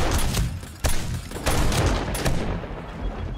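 Automated base turrets in 7 Days To Die fire loud rapid bursts of gunfire during a horde night, crackling shots continuing steadily with brief gaps.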